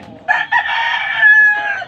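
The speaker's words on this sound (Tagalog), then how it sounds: "Yan yung mga manok." A rooster crows close by in a backyard in Pampanga, Philippines, a loud drawn-out call lasting under two seconds, with faint clucking from other chickens around it.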